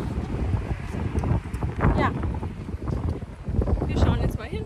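Gusty wind roars and buffets the microphone in a steady low rumble, with voices talking briefly over it, in a town on Crete.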